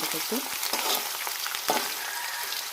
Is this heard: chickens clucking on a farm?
no